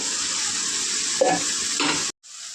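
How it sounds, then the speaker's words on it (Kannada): Sliced mushrooms frying with masala in a pan for mushroom biryani, a steady close sizzle with a couple of stirring scrapes before the sound cuts out briefly and the sizzle returns more quietly. "ರವಿ ಚೆನ್ನಾಗಿ ಎಲ್ಲ ಮಸಾಲೆ ಹೊಂದ್ಕೊಳೋ ಥರ ಚೆನ್ನಾಗಿ ಫ್ರೈ ಮಾಡಬೇಕು"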